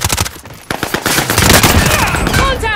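Rapid automatic gunfire from Call of Duty: Modern Warfare, fired at enemy shields in a multiplayer match. The bursts are loud and close, with dense overlapping shots and ricochet-like whines near the end.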